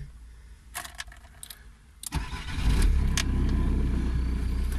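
A Volkswagen Passat B4 with a 1.9 TDI diesel engine starts up. Faint key jingles and a click are followed by a brief crank, then a close, low, steady diesel idle rumbles on.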